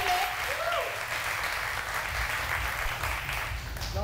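A crowd applauds at a concert or event in Abidjan, a dense, steady wash of clapping that stays loud for the whole stretch.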